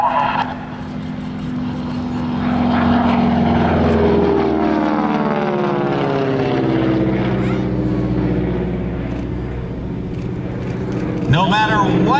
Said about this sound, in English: give a nice round of applause to Bill Leff in the North American Texan